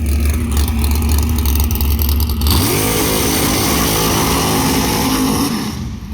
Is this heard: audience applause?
no